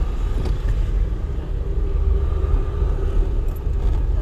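A car engine hums steadily under light throttle in second gear during a driving lesson, a continuous low rumble with no talk, held at an even level throughout.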